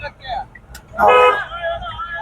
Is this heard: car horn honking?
yes